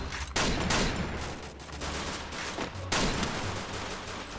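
Counter-Strike gunfire, loud and dense automatic bursts filling the whole clip, with two sharp surges of shooting and no clear talk.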